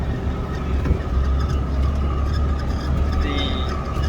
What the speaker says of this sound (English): The tractor and harmonics like to put kids to sleep.